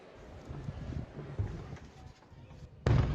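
A blast from an Iranian attack in Qatar sounds as a sudden loud, booming thud near the end, following several seconds of rumbling wind-like noise.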